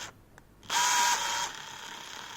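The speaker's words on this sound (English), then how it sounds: "Making threads in the battery housings." A tap or drill cuts threads into a plastic battery housing for a DIY electric skateboard battery, a steady close whirring and grinding that runs for about a second and then eases to a quieter, continuing hum.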